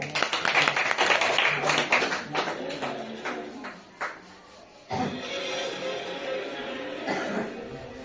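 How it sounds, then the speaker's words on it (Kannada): Children and an audience clap loudly at a quiz program for first- to third-class kids, with sharp clapping bursts at first that settle into busy crowd noise and a few voices. "ಜೋರಾಗಿ ಚಪ್ಪಾಳೆ"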